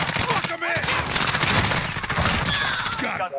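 Rapid bursts of automatic gunfire crackle through a video game match, dense and continuous with overlapping shots, while players talk excitedly over the shooting.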